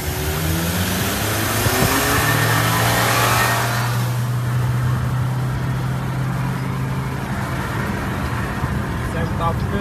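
A Hyundai Santa Fe accelerating hard in a drag race against a Toyota CHR, heard from inside the car, with a rising engine drone and road roar. A person talks over it.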